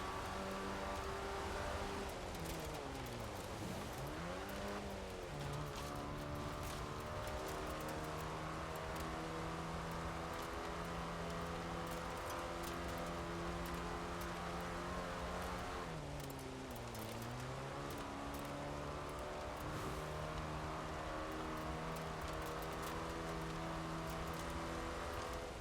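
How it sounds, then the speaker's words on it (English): A three-wheeled car in Forza Horizon 4 drives over gravel, its engine droning steadily with two distinct dips and revs, while a constant gritty crunch of gravel and tyre noise runs underneath throughout. "We think this three-wheeled vehicle was not meant for gravel."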